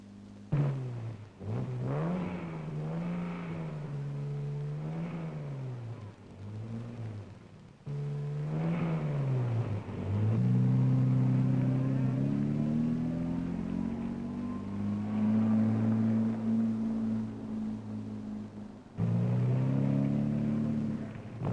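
Engines rev, idle and rumble as 1960s sports cars from a European Grand Prix are driven aboard a boat at port, with engine pitch rising and falling in waves and several separate revs close by.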